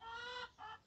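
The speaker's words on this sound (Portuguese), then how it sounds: "ó, galinha, goiaba, também tem café, cana, também tem galinha, ó." Hens on a small farm give a couple of quick clucks, close and clear, the first longer and the second shorter after a brief gap.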